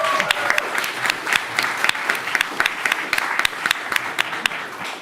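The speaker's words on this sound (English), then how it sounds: "Big round of applause." A demo day audience applauds steadily throughout, with dense, continuous clapping at a fairly close, even level.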